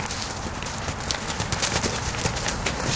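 Horse hooves clip-clop steadily and close during a young mare's first saddling, in a continuous shuffling rhythm against a constant broadband background hiss.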